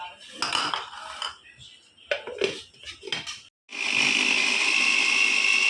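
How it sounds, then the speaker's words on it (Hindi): Quick knife chops on chillies tap on a cutting board in uneven bursts, followed by a steady loud whooshing noise like running water or a motor. "अभी मिर्ची चॉप कर रहे"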